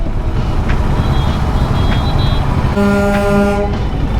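A vehicle horn blares in heavy traffic on the ECR/OMR roads, heard from a Royal Enfield Guerrilla 450 ride. After faint short toots amid road noise, a loud sustained honk sounds near the end over the traffic rumble.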